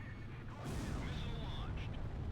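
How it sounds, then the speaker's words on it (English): A missile launch in the flight combat game Ace Combat Zero: The Belkan War, a sudden rushing roar that swells and holds, moderately loud under faint background rumble. "Missile launched."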